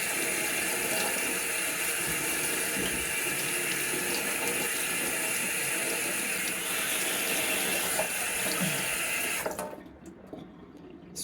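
Pineapple and carrots being washed under running tap water, a steady close hiss of the flow with faint handling clatter, cut off abruptly near the end.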